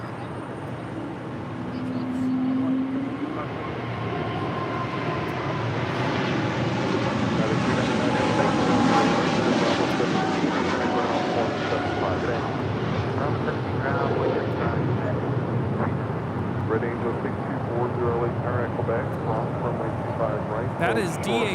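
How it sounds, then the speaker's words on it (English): Boeing 747-8 freighter, a DHL flight operated by Polar Air Cargo, departing runway 25 right at LAX: a deep, sustained jet roar that swells to a broad rumble and stays loud throughout, with talk over it. "That is DHL, operated by Polar Air Cargo 9601, departing to Seoul on a 747-8 freighter."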